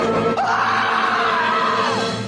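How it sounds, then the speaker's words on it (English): Shriek on an answering machine greeting: one sustained, loud high-pitched scream that rises sharply, holds for about a second and a half over background noise, then trails off. "Leave your message at the sound of the shriek."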